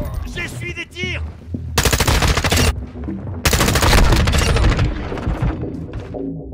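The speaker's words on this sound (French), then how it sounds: "J'essuie des tirs." Rapid automatic gunfire in Call of Duty, loud close bursts of machine-gun fire in two long strings, with a voice talking briefly at the start amid game effects.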